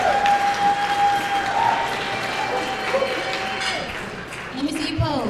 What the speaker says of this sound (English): One more time, let's give it a round of applause while they get a picture.